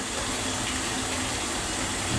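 Hot water pours steadily from a tap into a bathtub, a continuous broadband rush with no pauses, fairly loud and close, with no voices over it.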